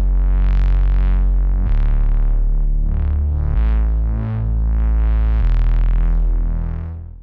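A deep, sustained synth bass drones with a few note changes, thick and slightly throbbing, with a bright buzzy layer swelling rhythmically above it.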